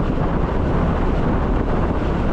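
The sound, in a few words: strong wind blowing on a Caribbean island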